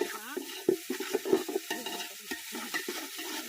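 Tomatoes and ginger sautéing in a pot for chicken biryani: frequent close stirring scrapes over a moderate sizzle, with faint voices in the background.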